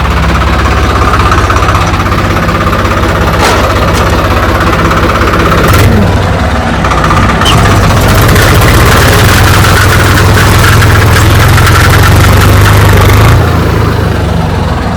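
A loud, steady tractor engine runs throughout with a heavy low rumble and rapid knocking, rising slightly near the end.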